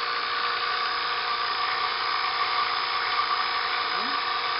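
A vacuum machine degassing investment in a casting flask for lost wax ring casting, a steady high-pitched electric whine and hum that holds constant throughout.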